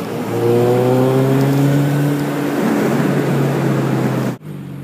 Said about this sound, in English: hopefully you can hear me alright over the engine noise